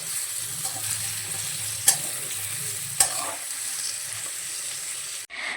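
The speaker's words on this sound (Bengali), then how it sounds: "চিনিটা দেওয়ার পরও একটু মিশিয়ে নিতে হবে।" Papaya fry sizzles in a pan as it is stirred after sugar is added, with a steady frying hiss and a couple of sharp spatula scrapes against the pan.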